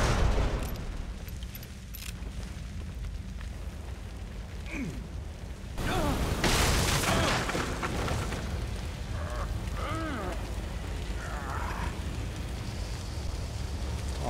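Gunfire rings out in the survival horror game The Evil Within, with scattered shots in a quiet stretch, then a sharp, louder burst of firing midway, followed by further mechanical clatter and pops.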